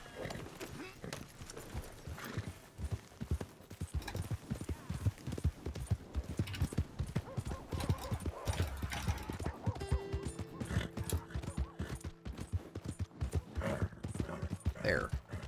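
Horse hooves clip-clopping at a gallop with an occasional whinny in the Red Dead Redemption 2 video game, steady rhythmic thuds running throughout alongside game music and a talking voice.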